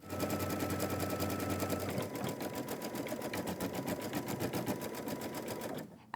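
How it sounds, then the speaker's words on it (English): Embroidery machine stitching out a placement line on wash-away stabilizer in a 4x4 hoop, a steady rapid mechanical needle rhythm running loud and close, briefly shifting pitch midway, then stopping abruptly at the end. "I'll go ahead and place my 4x4 hoop into the machine, just like this,"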